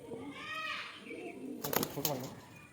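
A pigeon at a bird seller's in Sankrail, Howrah, gives a short burst of wing flaps and fluttering after a stretch of nearby talk, close and moderately loud.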